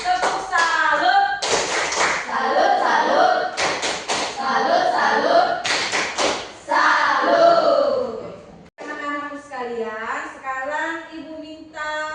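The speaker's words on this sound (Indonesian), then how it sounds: "Beri tepuk tangan untuk kelompok 1." A classroom of children claps rhythmically in patterned bursts for group 1, sharp hand claps and taps in quick clusters with short pauses between, children's voices mixed in near the end.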